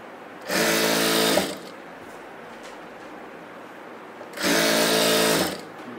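Sewing machine running the side seams of a kurti in two steady bursts of about a second each, close and fairly loud, separated by a quiet pause with faint room noise and no talking.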